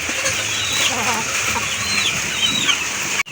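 Chickens in a rain-soaked coop during a typhoon cluck and murmur close by, under a constant heavy hiss of rain, ending with a sharp knock.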